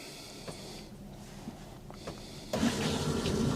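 Shower water drains through a sump pump inside a cargo trailer conversion: a quiet trickle with a few soft knocks, then a sudden louder rushing gush at the end.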